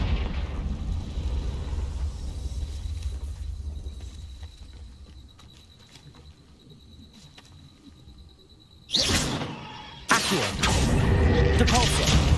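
A Confringo blasting spell goes off in Hogwarts Legacy. A low rumbling background gives way to two sudden loud, broadband blasts a second apart, the second one roaring on and filling the rest of the moment.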